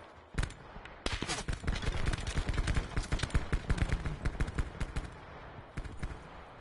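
Rapid bursts of gunfire, sharp cracks fired in quick succession after a single opening shot, dense volleys through the middle then tapering to a few scattered shots, loud and close with no talk.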